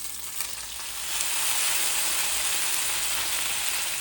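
Onions sizzle in butter on a Schwenker swing grill, a dense steady hiss of frying that swells slightly after the first second and then holds constant, close and without voices.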